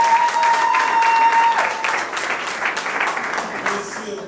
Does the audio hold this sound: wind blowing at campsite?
no